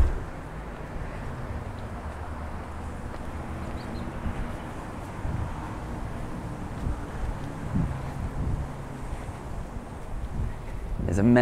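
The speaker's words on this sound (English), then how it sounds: "wow, that's windy" Strong wind outdoors at a fire-damaged house under repair, a loud continuous low rumble of gusts buffeting the microphone, rising and falling throughout, with a louder burst at the end.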